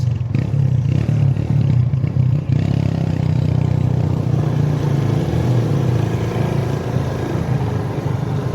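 A motorcycle with a broken clutch runs steadily at close range, its engine a loud, continuous low drone with some clattering, staying even with no clear revving.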